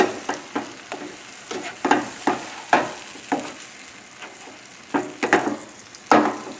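Scrambled eggs with spinach sizzle and fry in a pan over a very high flame, with repeated scraping stir strokes cutting through the steady hiss at an irregular rhythm, close and clear with no voices.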